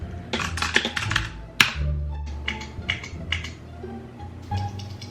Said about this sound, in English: This is how you make your keyboard thock.